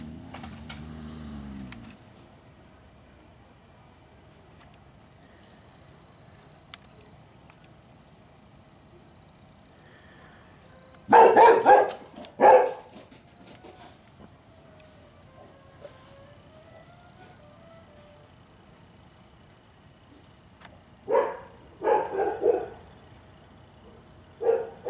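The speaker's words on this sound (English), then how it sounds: "And that's the bark of Mr. Doe." A dog barks in two short bursts of a few sharp barks each, separated by long quiet stretches with faint background hum.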